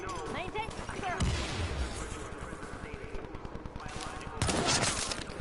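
Gunfire rattles in a firefight in The Division video game, with dense bursts of automatic shots, heavier blasts and crashes that continue throughout while voices call out over the shooting.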